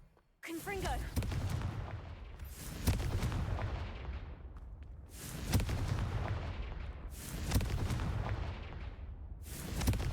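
Confringo fire spells cast in the video game Hogwarts Legacy, heard as four or five loud, booming blasts at roughly two-second intervals, each followed by a crackling, rumbling decay.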